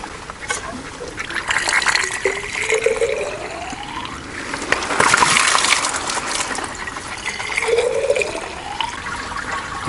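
Tap water pours steadily into a garden pond, a continuous gushing and trickling stream with rising filling tones, close and moderately loud throughout.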